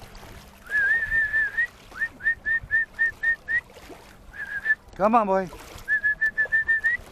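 Someone whistles a string of short, high repeated notes up close, with a brief spoken phrase partway through and light background noise.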